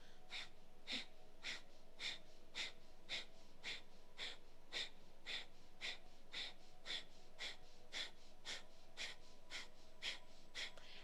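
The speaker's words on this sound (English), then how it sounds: "close the mouth and continue the breath through the nose and continue to pump the" Rapid, rhythmic breath pumped through the nose during a yoga practice, with the navel pulled in on each stroke, about nineteen evenly spaced, close, breathy huffs in a steady pulse.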